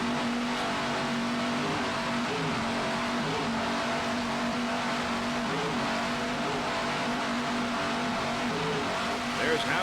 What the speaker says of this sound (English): Just listen to those Raymont engines.